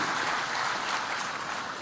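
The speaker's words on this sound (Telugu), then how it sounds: "గట్టిగా అందరూ చప్పట్లు కొట్టి అభినందించాలి" Applause from an audience at a public gathering honouring someone's work: dense, steady clapping that holds at an even level for the whole two seconds, with no voices over it.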